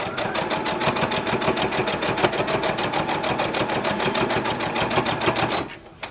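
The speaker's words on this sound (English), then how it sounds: "I like to use the back sew feature on my sewing machine to sew a few back stitches" A sewing machine runs continuously with a rapid, even mechanical chatter of stitching a face mask for several seconds before stopping.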